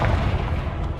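A Confringo spell explosion in Hogwarts Legacy lands as a deep, muffled boom with a rumbling low-end thud, moderately loud and short amid game sounds.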